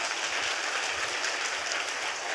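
Applause from a congregation during a Korean church worship service, a dense, even wash of clapping that stays steady and fairly distant for the whole stretch, with no voices standing out.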